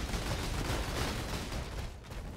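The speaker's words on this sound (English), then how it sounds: "All I hear is explosions." Dense explosions and gunfire in the video game Path of Exile, a continuous loud, crackling barrage that fills the short stretch with no clear gaps.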